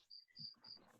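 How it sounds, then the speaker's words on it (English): Crickets chirp faintly in the background of a lecture recording, three short high trills in a row, quiet and distant, with a low murmur beneath. "Are those crickets in the background?"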